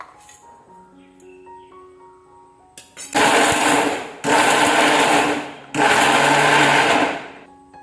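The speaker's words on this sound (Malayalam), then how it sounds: "ഇനി നമുക്കിത് ചൂടാറിയതിന് ശേഷം ഒന്ന് മിക്സിയുടെ ജാറിലിട്ടിട്ട് നല്ലോണം ഒന്ന് പൊടിച്ചെടുക്കാം കേട്ടോ." A mixer grinder jar grinds roasted sesame mix in three loud, roaring bursts with short pauses between them, after a quieter stretch of faint tones.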